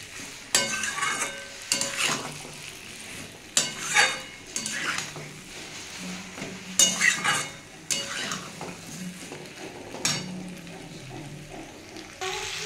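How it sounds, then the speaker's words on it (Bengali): Fried pointed gourd is stirred and sautéed in a spice masala in a pan, with irregular spatula scrapes and clinks over a soft sizzle, close and fairly quiet. "দিয়ে বন্ধুরা আর একটু কষিয়ে নেবো আমি এটা।"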